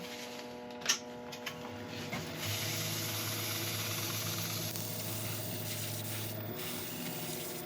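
Buffing oil-based polish into a turned redwood (sequoia) piece on the lathe, a steady broadband rubbing hiss over the low motor drone, preceded by a couple of brief knocks.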